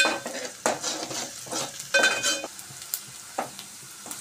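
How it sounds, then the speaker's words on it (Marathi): Crushed garlic sautéing with onion in a hot pan for a jackfruit dish, a steady sizzle under repeated stirring scrapes and light clinks of a spoon against the pan, close and fairly loud, no talking. "आपण त्यात घालणार आहोत ठेचलेला लसूण। तोही आपण 2-3 मिनिटं परतून घेणार आहे।"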